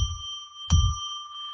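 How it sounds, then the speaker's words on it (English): A single bell rung to open a sacred space on a live psychic radio show, a clear struck tone that rings on with steady sustained overtones after a soft low rumble. "So let's ring that bell."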